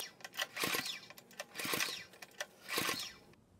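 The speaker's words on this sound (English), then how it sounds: "And now pull the start cord a few times until the reading on the gauge doesn't go up any higher." The start cord of a Honda GX200 clone engine is pulled several times during a compression test, making three quick rasping, whirring pulls with short pauses between them. They sound close and fairly quiet, with no talk.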